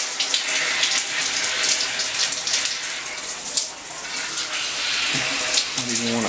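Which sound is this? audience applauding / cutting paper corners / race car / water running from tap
water running from tap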